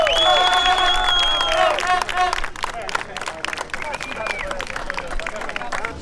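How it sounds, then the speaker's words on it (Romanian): Crowd applause and cheering for the Trial Standard B podium at an off-road race in Câmpulung, a steady wash of clapping and voices with tonal sounds over it early on, then looser, thinner clapping. "Și încă o dată aplauze pentru podiumul de la Trial Standard B"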